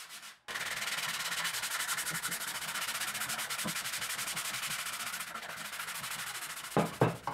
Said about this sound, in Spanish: Le voy a pasar un poco la lija para sacarle un poquito nomás